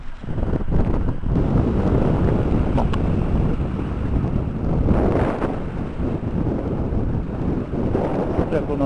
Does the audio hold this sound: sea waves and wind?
yes